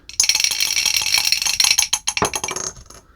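Dice tumble and clatter on a hard surface during a book-picking game, a quick burst of rattling impacts that thins into a few separate bounces before settling.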